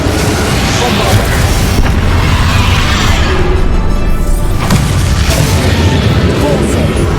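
Bombarda explosion spell in Hogwarts Legacy going off as a dense, heavy booming blast that rumbles continuously at high volume, with voices shouting over the din.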